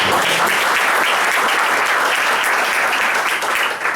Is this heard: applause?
yes